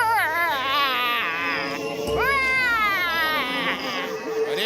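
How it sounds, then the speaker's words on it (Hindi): Loud, wavering crying wails rise and fall in repeated sobbing bursts, close and continuous, like an infant's cry, with pitch sliding up and down through each breath. "ऐसी ही रोने की आवाजें आती हैं साहब"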